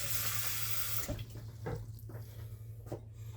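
Tap water pours steadily into a small bowl in a kitchen, a constant close hiss and splash that then gives way to a few drips and soft clinks.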